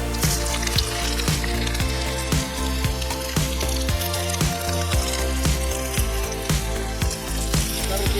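Garlic sizzles and fries steadily in hot oil, a dense continuous crackle with scattered sharp pops and spatters, close and loud throughout, during preparation of egg fried rice and chilli chicken in a home kitchen.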